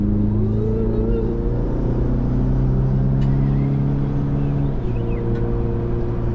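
A 2024 GMC Canyon AT4X AEV Edition pickup with its 2.7L turbo engine and 310 horsepower pulls up to speed, a steady low drone with rising tones that shift partway through, heard from inside the cab.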